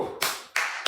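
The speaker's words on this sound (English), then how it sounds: "Don't clap like that." Three sharp hand claps ring out at a slightly uneven pace, each one bright and close, with fading room noise between them.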